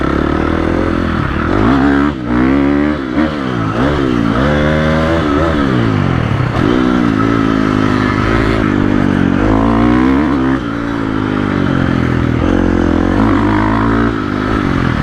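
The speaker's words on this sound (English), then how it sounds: "let's do one lap, following Mac on this Yz250" A Yamaha YZ250 two-stroke dirt bike rides a lap of the Kauai Vet Track, its engine loud and close, rising and falling in repeated revving sweeps through gear changes and corners with no let-up.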